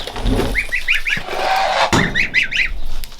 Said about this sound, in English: So now Harold's not around, the geese come up.